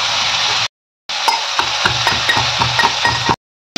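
Jhudunga long beans frying in mustard oil in a pan: a loud, close, continuous sizzle with light stirring clicks, briefly cutting to silence before resuming.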